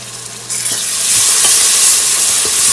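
Ginger garlic paste hits hot oil in a pot, sparking a sudden loud sizzle that swells and holds, with a few soft stirring knocks beneath.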